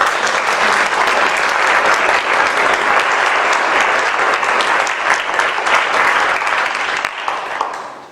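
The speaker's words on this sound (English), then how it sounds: "Let's give them a round of applause for their" Loud, sustained applause from the crowd at an adult basic education graduation ceremony, thick continuous clapping that holds strong before tapering off at the close.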